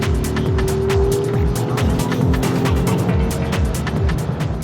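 A Volvo S60 Recharge accelerates hard, its engine note rising steadily and loud from inside the cabin, with a repeating gear-like rhythm and no talking over it.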